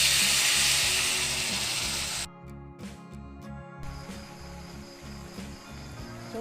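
Hot water poured into a frying pan of fried brinjal and dried fish sets off a loud rushing hiss of steam and sizzle that cuts off abruptly, followed by a quieter simmering bubble.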